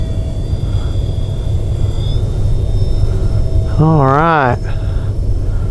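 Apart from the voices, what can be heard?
RC OV-10 Bronco model airplane flying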